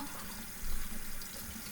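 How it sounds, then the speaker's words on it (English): Running tap water flowing steadily into a bathroom sink during tooth brushing, a soft continuous hiss that swells slightly partway through, with no voices. "I still have the water running."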